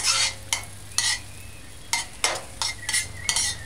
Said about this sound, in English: just use a spatula and just move the egg from side to side in the heating pot